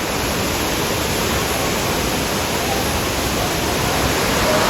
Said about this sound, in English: So check it out, this is the main waterfall.